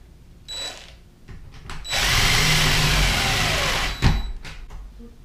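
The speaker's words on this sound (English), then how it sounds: "all we're going to do is put the screws in now to hold it" A power drill drives screws into a door knob lock set, with a brief trigger burst, then a loud sustained whirring run of about two seconds that ends with a sharp jolt, followed by handling clicks.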